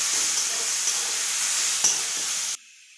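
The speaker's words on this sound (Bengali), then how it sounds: "পেঁয়াজ, কাঁচা লঙ্কা, টমেটো একসাথে ভেজে নিচ্ছি।" Onion, green chilli and tomato frying together in a pan of oil for an egg roll filling, a loud, steady sizzle and hiss with light stirring scrapes that stops sharply near the end, leaving faint quiet.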